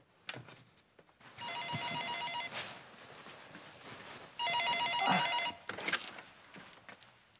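An old-style telephone bell rings twice in long trilling bursts, with small knocks and handling noises between them, in a Korean TV drama.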